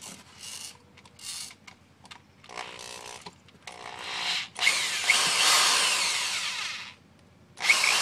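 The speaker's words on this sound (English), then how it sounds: "I got the drill plugged in here with a quarter-inch drill bit" Corded power drill fitted with a quarter-inch bit bores into a car camera mount, whining in short bursts that stop and restart, then grinds in one long continuous run before a brief final burst, close and loud.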